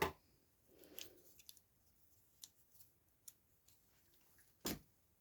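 Scissors snip stitched cotton thread at a desk, a few faint sharp clicks scattered over several seconds with one louder cut near the end, in a quiet room.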